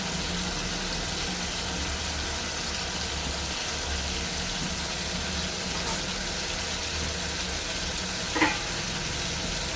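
Water poured into a frying ridge gourd curry with tomato sets off a steady, dense sizzle that holds evenly throughout, close and moderately loud, broken only by a single brief clink near the end.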